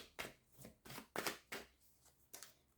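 Tarot cards are shuffled in a quiet room, a series of about six soft, close riffling swishes in an uneven rhythm.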